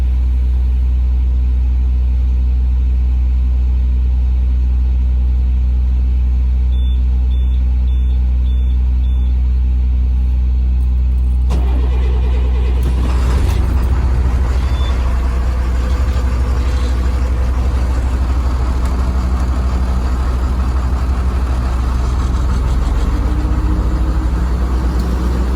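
A 72-passenger former route school bus diesel from the EJSD fleet cold-starting after its intake heater cycle, a sharp crank catching into a loud, heavy, rumbling idle that carries on steadily, with faint beeps before the start.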